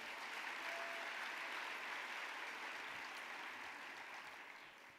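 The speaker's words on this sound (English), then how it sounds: "Let's give PepsiCo a round of applause." Sustained applause from a gala awards audience, a dense steady wash of clapping filling the room at full volume throughout before easing slightly at the end, with no voices over it.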